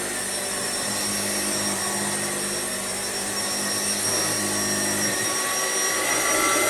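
A refurbished, roughly 60-year-old Hoover Junior 119 vacuum cleaner runs loudly and steadily on carpet, a constant motor roar and whine up close with no speech.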